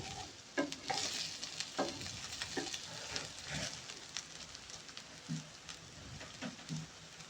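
A utensil stirs shrimp and mussels in coconut milk in a pan, with soft scraping strokes and a gentle sizzle, quiet and close, no voices.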